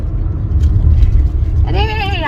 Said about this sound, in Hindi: ये गाड़ी थोड़ी है, ये बस है स्लीपर।